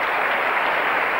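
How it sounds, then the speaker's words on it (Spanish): Applause from an audience at the end of a stage performance, a brief dense wash of clapping heard from a distance at steady loudness. "Un fuerte aplauso."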